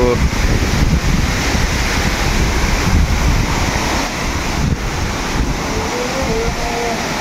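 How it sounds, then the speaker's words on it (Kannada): Akasha Gange waterfall in the monsoon, water crashing down in a loud, steady roar close by with wind buffeting the microphone throughout. "ಏನು ಚಿಂದಿಯಾಗಿ ಬೀಳ್ತಾ ಇತ್ತು ನೋಡಿ ನೀರು"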